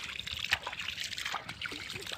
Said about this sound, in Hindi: चलो आपको पानी दिखाते हैं।